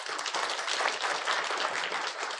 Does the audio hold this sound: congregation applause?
yes